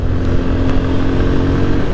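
A motorcycle rides along a road near Singra forest in Birganj, its engine droning steadily up close beneath continuous rushing wind noise, with no pauses or voices.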